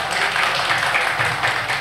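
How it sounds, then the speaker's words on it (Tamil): An audience at an astrology event claps for the guest astrologers: dense, steady applause from a crowd, fairly loud and even for its short length. "சிறப்பு விருந்தினராக வருகை புரிந்திருக்கும் ஜோதிட சான்றோர்களுக்கு ஒரு பலத்த கரகோஷத்தை கொடுக்குமாறு கேட்டுக்கொள்கின்றோம்"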